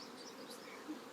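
Honeybees buzz steadily at a hive, a dense, continuous hum of many wings, close and fairly quiet, with no voices.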